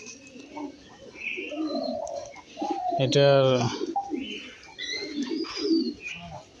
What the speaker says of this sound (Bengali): এখানে প্রায় 25-30 জোড়ার মতো কবুতর আছে।